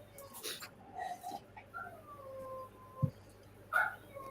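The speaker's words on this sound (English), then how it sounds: "I hear a puppy. That is my puppy." A puppy shut outside whines and howls in thin, drawn-out wavering cries with a few short yelps, somewhat distant and alone.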